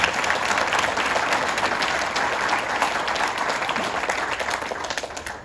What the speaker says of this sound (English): I've got to give you a special applause again for that